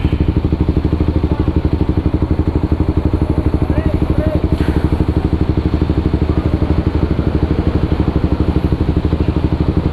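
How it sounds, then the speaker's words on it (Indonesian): Racing exhaust on a motorcycle being revved hard at the Senayan roundabout in Jakarta, a steady loud rattling engine drone running through the whole stretch with dense rapid pulses. "knalpot racing digeber-geber di bundaran Senayan kan"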